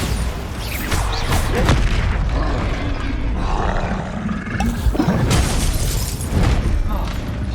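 Spell blasts and explosive booms from the Bombarda spell in Hogwarts Legacy ring out loud and dense in a busy fight, with roaring bursts near the start, middle and end over constant battle noise.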